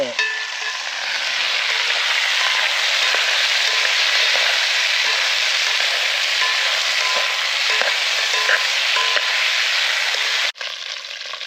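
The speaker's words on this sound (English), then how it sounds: "So that's the sausages pretty much, they're not cooked, but you just sort of brown them up a bit, get them going." Sausages browning in a frying pan give a steady, loud sizzle and crackle that runs almost unbroken, with small pops scattered through it and a short dip near the end.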